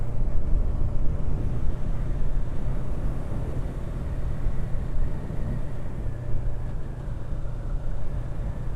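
Yamaha R3 motorcycle engine at low revs in sixth gear, reportedly making a noise, heard as a steady low rumbling drone with wind-like roar, fairly constant in level throughout and without any speech.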